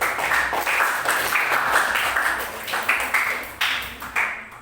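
Students in a classroom applaud a group's presentation during a biology lesson on genetic substances, with steady, dense clapping that continues throughout and rises and falls slightly in loudness.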